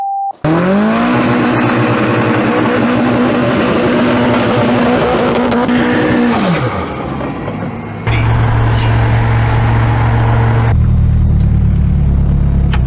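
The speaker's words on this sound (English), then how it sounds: "Okay, go do a burnout" A rear-wheel-drive GTi-R revs hard and spins its tyres in a loud, sustained burnout, the engine note climbing and holding before dropping off, then a heavier rumbling roar takes over toward the end.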